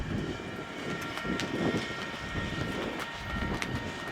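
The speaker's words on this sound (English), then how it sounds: "finishing the roll by on the other side of the train" CNW coal cars rolling past close by, a steady rumble with periodic wheel clicks and clanks over the rails.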